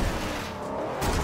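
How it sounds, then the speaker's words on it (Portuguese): A car crashing and flipping over in Forza Horizon 2, with a continuous roar of tumbling impacts and engine noise that swells again near the end, loud and close throughout. "Nossa, capotei."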